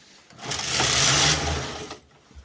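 A Toyota KS901 knitting machine carriage sweeps across the bed knitting a row, a loud whooshing mechanical rush that swells and fades over about a second and a half, close up and alone.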